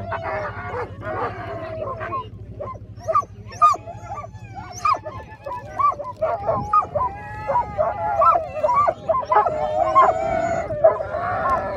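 Sled dogs bark, yip, whine and howl together at the start of a stage race in Teton County, a loud and restless chorus of overlapping calls close by, with people talking faintly underneath.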